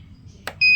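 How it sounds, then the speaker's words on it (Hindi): A buzzer on an Arduino-built prepaid smart toilet gives one steady electronic tone that starts abruptly and holds loud after a brief click. "तो बजर में एक साउंड आएगा"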